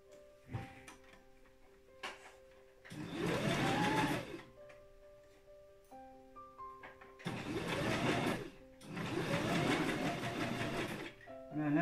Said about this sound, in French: Et donc je viens coudre au plus près à 2 mm du bord.